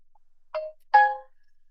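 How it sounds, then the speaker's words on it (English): A phone notification plays two clean chime tones in quick succession over near silence, with the second tone louder and ringing a little longer. "My phone just told me something."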